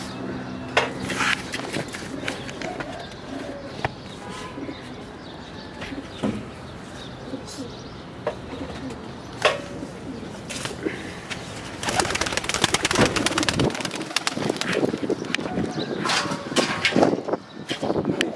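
Pigeons at a one-day pigeon flying tournament in Rawalpindi coo and flutter nearby amid outdoor bustle, with scattered wing flaps and clatter growing louder and busier toward the end.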